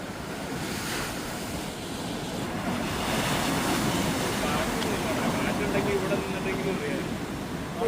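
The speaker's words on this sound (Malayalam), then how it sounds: "നല്ല സ്ട്രോങ് തിരമാലകളും വരുന്നുണ്ട്." Strong sea waves crash against rocks on a rainy, stormy coast during rock fishing, a continuous loud roaring wash of surf with wind noise buffeting the microphone, steady throughout with no clear voices.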